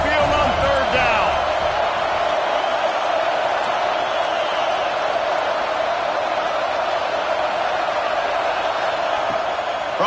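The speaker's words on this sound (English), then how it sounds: "The Tide crowd rolling noise down onto Saban Field on 3rd down" Alabama Crimson Tide home stadium crowd at Saban Field roaring during a third down against USC, a dense, sustained wall of noise holding steady and loud throughout with no break.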